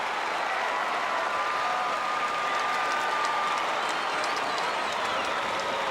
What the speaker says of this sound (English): So the Cats fans at long last have something to cheer